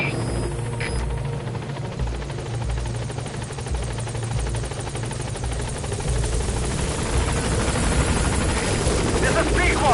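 B-Quad support helicopter from Metal Gear Solid V arriving at a landing zone, a steady loud rotor thrum and turbine whine throughout with a rhythmic chopping pulse, building slightly toward the end, with a voice over it.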